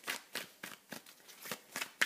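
Tarot cards are shuffled close by in a quick, even run of about eight soft riffling flutters, a little over two seconds in all.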